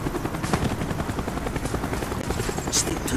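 A helicopter in the Call of Duty Black Ops video game: a continuous, close rotor drone with a steady buzzing beat, loud and unbroken throughout with no talk over it.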